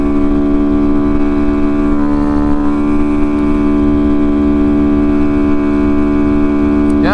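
Motorcycle fitted with a DHM piston pulling in fourth gear on the road, a loud, steady droning engine note with strong harmonics and a faint rise in pitch, running alone without talk.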